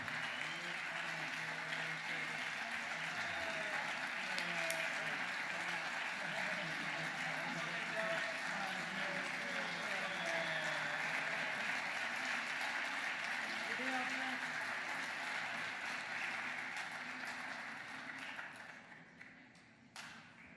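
A concert audience applauds a musician and the family band at a temple concert series, steady sustained clapping for about twenty seconds with a voice talking over it, tapering off at the end.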